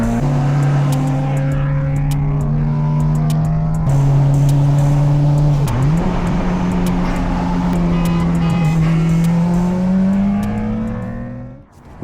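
A big-turbo Mitsubishi Evo drives at night with a loud, steady engine drone that holds constant pitch, then dips and climbs again through a gear change and pulls hard, fading briefly at the end.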